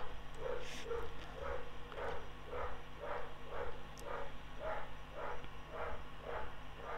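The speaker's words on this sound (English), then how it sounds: "Yeah, you can probably hear them. They're loud dogs." American Bulldog cross dogs bark steadily in a fast repeated run, muffled and somewhat distant under a constant low hum.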